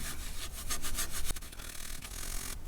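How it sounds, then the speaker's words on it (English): A coin is rubbed and polished around its rim, giving a faint, close, scratchy back-and-forth friction sound with no talking. "I'm just going to rub and polish it. Go around the rim, and we'll do the back."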